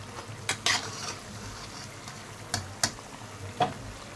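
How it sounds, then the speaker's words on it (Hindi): Potato and sabudana tikkis fry in a pan with a low, steady sizzle, broken by a few brief spatula scrapes and clinks near the pan. "ये देखिए ये भी फ्राई हो गई"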